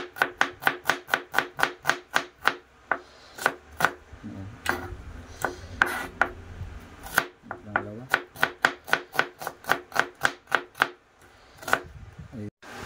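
A knife thinly slices onion and garlic on a board in quick, evenly spaced crisp chops, with a few short pauses between runs of cuts; close and clear with no talking.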